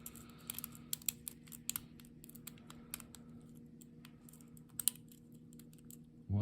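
Small metal lock picks click and tick inside a lock in quick, irregular bursts, close and crisp, over a steady low hum with no talking.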